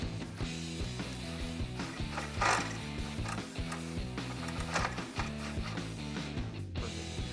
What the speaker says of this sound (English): take a Phillips head bit on my impact gun